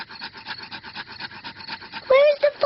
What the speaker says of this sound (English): I'm going to make fire the old way, by simply rubbing these two sticks together